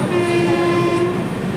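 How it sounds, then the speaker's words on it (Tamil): A goods train passes loudly on the adjacent track, making a continuous heavy rumble with a sustained horn-like tone through the whole moment. "பக்கத்தில் பார்த்தீங்கன்னா கூட்ஸ் ட்ரெயின் வந்து கிராஸ் ஆகுது அந்த சைடு"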